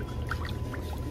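Water poured at home makes a brief, soft, steady splashing trickle for about a second, with no talk over it.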